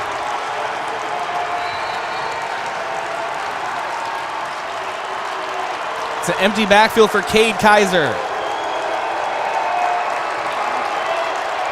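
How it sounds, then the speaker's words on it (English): A football stadium crowd at a high school game between Yankton and Pierre roars and cheers in a steady wash beneath play-by-play commentary, with a burst of sharp claps or thumps midway. "Listen to this crowd."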